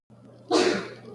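A single sharp sneeze bursts out after a quiet breathy lead-in, followed by the start of a voice at the very end.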